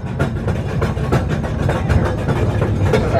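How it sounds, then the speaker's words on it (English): A counterbalance cable train passes inside a cave at Silver Dollar City, giving a loud, continuous rumble with rhythmic clacking and mechanical rattle throughout. "So just a few moments to the right-hand side, you'll see that passing train."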